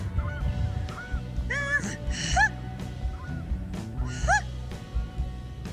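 A voice performs traditional Inuit throat singing imitating a goose: repeated nasal honks and rising, gasping calls in a steady, breathy rhythm, close and clear.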